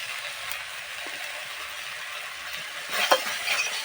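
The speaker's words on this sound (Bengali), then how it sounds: "এইভাবে ভালো করে নেড়ে চেড়ে পুরো যখন শুকিয়ে যাবে তারপরে নামিয়ে ফেলবো" Food being stirred as it fries in a pan with ground turmeric, a steady soft sizzle with scraping stir strokes that grow louder near the end, no talking.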